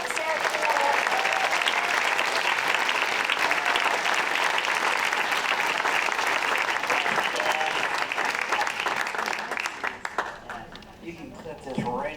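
Audience at a PechaKucha Night in Burlington applauding as the first presenter comes up, a dense, sustained wave of clapping for about ten seconds that thins out, with voices near the end.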